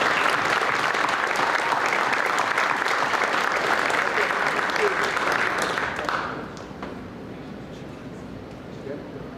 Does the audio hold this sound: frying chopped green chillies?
no